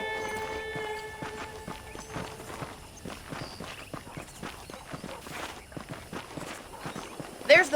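Horse hooves clip-clop on ground in the Red Dead Redemption video game, a brisk run of close, distinct hoofbeats with a voice talking over them and a brief louder burst at the end.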